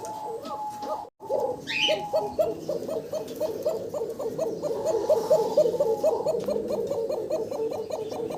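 A female Cocker pigeon in an agitated mood coos in a steady, rapid run of throaty pulsing calls, close and fairly loud, continuing for several seconds after a short broken start.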